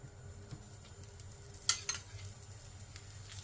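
Ghee sizzling in a pan while parathas cook, a steady soft crackle with a couple of sharper spits midway, fairly quiet and heard alone.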